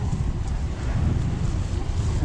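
Strong wind on a mountain summit buffets the microphone with a loud, continuous low roar and no break.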